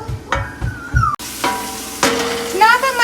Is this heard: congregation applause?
no